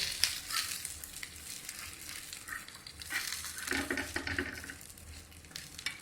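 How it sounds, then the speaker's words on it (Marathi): Aloo wadi (colocasia leaf rolls) fry in a pan, a steady soft sizzle with occasional scraping and stirring of a utensil, close and continuous with no voices. "चांगल्या खरपूस होस्तर भाजून घेऊ।"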